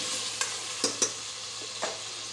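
Chopped tomato, onions and green chillies being stirred in a pressure cooker, a few distinct spoon scrapes and taps over a faint background sizzle, quiet and close.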